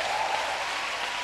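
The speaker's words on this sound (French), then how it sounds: "Que quelqu'un acclame le Seigneur." A church congregation applauds and cheers the Lord at a French-language worship broadcast, a dense, steady wash of clapping held at even loudness throughout, with no voices standing out.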